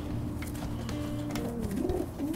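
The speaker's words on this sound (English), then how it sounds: "These pigeons without paperwork," Racing pigeons, including a checker cock, cooing in a loft, a steady low murmuring coo that rises and falls, close and continuous with no talking.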